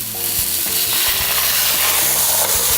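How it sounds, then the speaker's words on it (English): White wine deglazing a hot pan after cooking veal saltimbocca, a loud, steady close-up sizzle with clinks of stirring that carries on throughout, with no talking. "It's gonna deglaze all the bits, those brown bits on the bottom of the pan."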